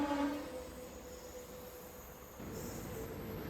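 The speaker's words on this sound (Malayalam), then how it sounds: "അങ്ങനെ ലാസ്റ്റ് നമുക്ക് പോകാൻ ട്രെയിൻ എത്തിയിട്ടുണ്ട് കേട്ടോ" A train pulls into a station with a steady low rumble of wheels and a faint metallic squeal, the rolling noise swelling again partway through, with no one talking.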